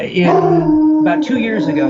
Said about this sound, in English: sorry about the dog. He'll quit.